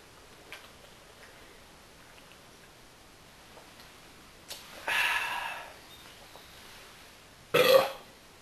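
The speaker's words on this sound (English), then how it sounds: "that was a wimpy burp" Two weak burps close to the mic, the first a longer low rasp and the second a short, louder gulp, heard alone against a quiet room with faint ticking in the background.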